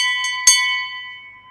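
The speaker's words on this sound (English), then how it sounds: "So I'm going to ring the bell. This will be loud." A single bell rung to mark the stock market open, striking twice in quick succession with a bright metallic clang, then ringing on in steady sustained tones that slowly fade, loud and close with no talk.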